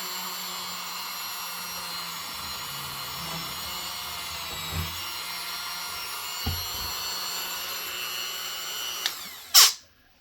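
Small drill whirring steadily as it bores through polymer clay lentil beads, a constant high motor whine with faint handling knocks, ending in a brief sharp clatter.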